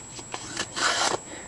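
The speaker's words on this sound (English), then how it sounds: "You just sand it down to there." A sanding block rubbed roughly over a wooden rudder for a Sopwith Pup model, several short rasping strokes ending in one longer scrape, close and alone.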